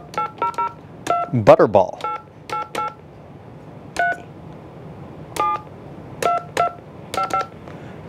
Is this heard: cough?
no